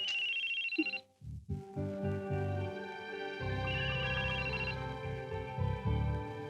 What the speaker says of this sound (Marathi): खरंच जयदेवचा फोन आहे.